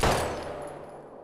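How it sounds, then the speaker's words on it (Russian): A single gunshot in the Life is Strange video game, a sharp loud crack at the start followed by a long reverberant decay, with no speech over it. "Да, все мы помним этот точнейший выстрел в лоб Хлои."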